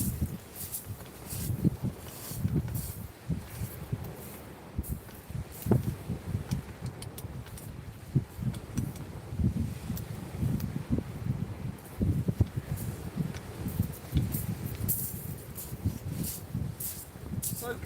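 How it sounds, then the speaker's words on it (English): Gusty wind blowing over a lake shore during bass fishing, a steady broadband rush with rising and falling buffets and some rustling, close and fairly loud throughout with no talk. "It's really blowing up here."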